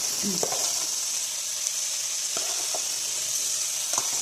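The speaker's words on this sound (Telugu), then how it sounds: "పుదీనా, కొంచెం కరివేపాకు ఇలా ఫ్రై చేసుకోవాలండి" Mint and curry leaves fry in a pan for veg biryani, giving a steady close hiss of sizzling oil with a few soft stirring scrapes, and no talk.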